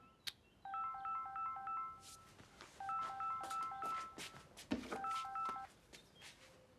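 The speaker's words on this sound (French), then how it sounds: "Faut éteindre ton téléphone, Yvette." A mobile phone plays a melodic ringtone in three repeated bursts of stepped beeping notes, separated by brief pauses, with small clicks and light room noise around it; no one speaks.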